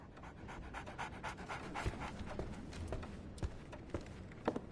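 A dog in a video game pants rapidly and rhythmically at close range, the quick breaths running unbroken with a few soft footfall-like taps mixed in.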